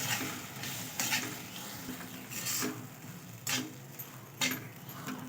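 Semolina stirred and roasted in ghee in a pan over a low flame, soft scraping strokes at a slow, uneven rhythm with a faint sizzle beneath.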